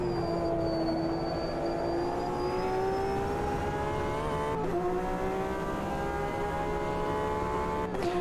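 A faster-class race car approaches in Automobilista 2 during an IMSA WEC 2022 custom championship, its engine note rising steadily in pitch over a constant loud drone of the player's own car, alone without talk.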